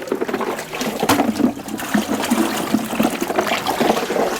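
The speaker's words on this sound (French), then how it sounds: "si c'est l'arrosage, vous devez le faire 2 fois par jour avec de l'eau glacée, comme ceci" Ice-cold water splashes and trickles over bags of mushroom substrate, a steady close-up gush with scattered splatter hits that carries on for several seconds without talk.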